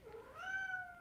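A single rising and falling cat meow, clear and fairly close, in a quiet indoor room with no talking.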